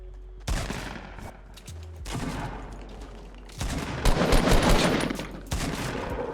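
Gunfire in Fortnite rings out in several rapid bursts, loud close shots interrupted by short pauses, with some faint speech in the background.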